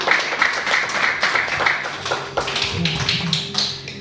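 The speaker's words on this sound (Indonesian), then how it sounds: "Saya boleh dengar tepuk tangannya kalau begitu." A church congregation claps, quick sharp taps that quicken into scattered applause, with a faint voice or tone running underneath in the second half.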